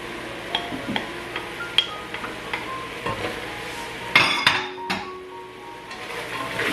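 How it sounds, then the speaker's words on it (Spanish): Potato and carrot being stirred in a cooking pot of lentils with chorizo and sweet pepper, a spoon knocking and scraping with irregular clinks against the metal, close and fairly quiet, with a louder cluster of scraping near the end. "voy a mezclar."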